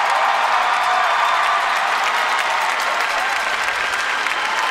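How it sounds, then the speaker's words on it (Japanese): Packed figure skating arena crowd roars and applauds continuously after a short program, loud sustained clapping blended with cheering that fills the space without pause. "満員の客席、その大歓声に手を振って応えます、キム・ヨナ。"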